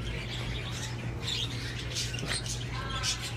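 A pet bird in a shop gives scattered high squawks and chirps over a steady low hum of background noise, fairly close and moderately loud.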